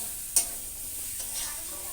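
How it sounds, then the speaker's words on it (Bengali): Boiled potatoes frying with spices in a pan: a soft, steady sizzle with one sharp utensil scrape early on and a fainter one later, no voices. "এবার এটা সুন্দর করে কষিয়ে নেব।"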